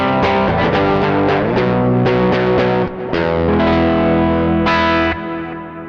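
Electric guitar through an amp model set to a broken-up, Vibro Champ-like tone, with strummed chords ringing out loud and slightly distorted in several close, sustained bursts, no talk.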